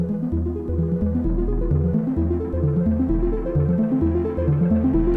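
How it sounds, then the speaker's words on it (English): Eurorack modular synth lead playing a stepped, pulsing melody with reverb and delay tails smearing the notes, loud and continuous with no talking. "what you're hearing here is just a reverb and delay edge of it"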